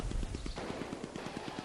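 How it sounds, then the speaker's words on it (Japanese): Rapid, evenly spaced bursts of gunfire crackle over a dense rumbling roar, like a distant mortar and tank-gun barrage mixed with steady automatic fire, loud and continuous with no voices. "不意に麓から砲声が起こった。 迫撃砲と戦車砲の一斉砲撃だ。"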